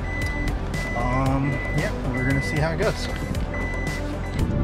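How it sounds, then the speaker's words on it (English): A vehicle's reversing beeper sounds in repeated high, even pulses from a short distance, with truck engine noise and someone talking over it. "Sorry for that beeping in the background."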